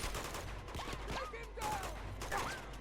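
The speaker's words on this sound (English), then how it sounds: "Wait for him to stop firing." Enemy gunfire in Uncharted 2 comes as scattered bursts of shots, with clanking mechanisms and sharp cries mixed into the loud, busy din of the game.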